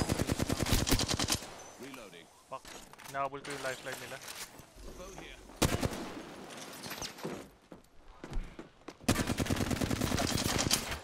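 Gunfire in the Apex Legends video game crackles in rapid automatic bursts, loud and dense at the start and end with scattered shots between, while a player talks excitedly throughout.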